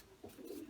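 Brown racing pigeon giving a single short, soft coo, faint and close, with no talk.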